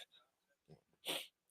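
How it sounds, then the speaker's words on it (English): A single short sneeze bursts out near the end, sharp and close, following a couple of quiet breathy sounds in an otherwise quiet room. "Oh, excuse me, that was a sneeze there."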